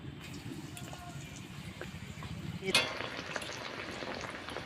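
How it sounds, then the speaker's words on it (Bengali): Toast biscuits coated in batter hit hot white oil, and a steady bubbling fry swells into a louder hissing burst partway through before settling into a continuous sizzle. "এখন তেলে ছেড়ে দিচ্ছি"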